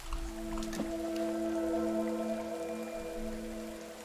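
Rain falls in the survival video game The Forest, a steady hiss with a low droning hum underneath, continuous and moderately loud with no talking.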